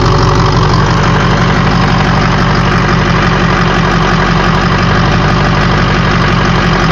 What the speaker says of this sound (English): as soon as you start the engine, some of the old fluid already starts to run out down the tube